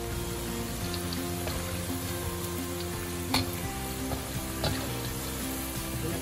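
Sambal petai fries in a pan with a steady, close sizzle, punctuated by a few sharp clicks of stirring as the beans crisp up, and no one speaks.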